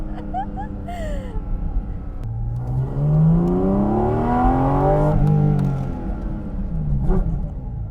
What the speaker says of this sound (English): I went up to like 6 there and then just slammed the brakes